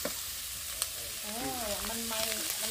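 Steady sizzling and crackling of pork skin frying in hot oil, with faint muffled voices in the background.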